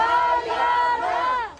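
A crowd outside the Hall of Justice erupts in loud, sustained cheering and shouting after former Senator De Lima and Ronnie Dayan are acquitted, with many voices overlapping close by before fading at the end.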